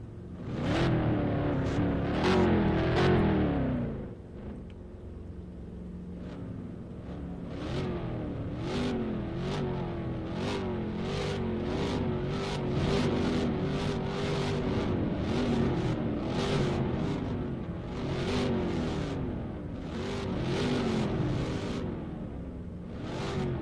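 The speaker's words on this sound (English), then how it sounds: "Drivers, can you please turn your engines off?" Several racing cars in a video game race rev their engines together, a busy layered roar of rising and falling pitches with repeated sharp revs and a brief lull near the start, all close and loud.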